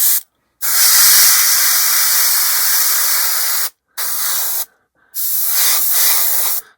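An airbrush spraying thinned Mr. Hobby paint onto a 1/48 HK Models B-25J kit: a loud, close, steady hiss in three long bursts separated by brief silences.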